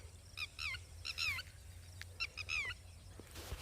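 Several birds calling in alarm over agricultural farmland, goose-like honking cries in short repeated bursts of two or three, fairly close, over a low steady background rumble.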